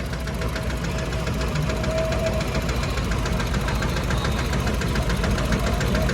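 A heavy tractor engine running a thresher during a groundnut harvest throbs steadily with a knocking rhythm and rattling machinery, holding the same loud drone throughout.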